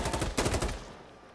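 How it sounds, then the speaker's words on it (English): Rapid automatic gunfire in Insurgency: Sandstorm, a quick burst of close, loud shots lasting about a second before trailing off into a dull rumble. "they're shooting through that"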